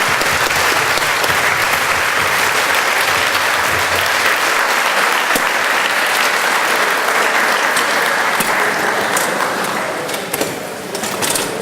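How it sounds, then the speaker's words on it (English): A large audience at a federal annual meeting applauds the candidates, loud sustained clapping that fills the room for several seconds before gradually thinning out. "And I'd like all of us to give all the candidates a great big round of applause."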